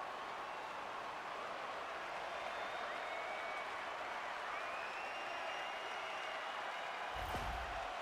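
An ice hockey arena crowd cheers and applauds after Buffalo scores against Montreal in an NHL playoff game, a steady distant roar of clapping and voices with a brief thump near the end.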